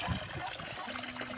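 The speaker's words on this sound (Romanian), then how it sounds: "această apă se infiltrează din aceste stânci." Spring water trickles and seeps out of rocks in the open countryside near Constanța, giving a steady, close liquid wash and dribble with no voices.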